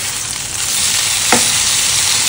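Green masala fish fries in a pan with a steady, loud broadband sizzle throughout, and one brief sharp crackle or pop near the middle.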